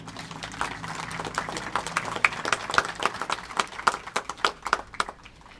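A round of applause from the crowd at a Memorial Day wreath-laying ceremony in Fanwood, light and scattered outdoor clapping with distinct individual claps growing more spaced out toward the end.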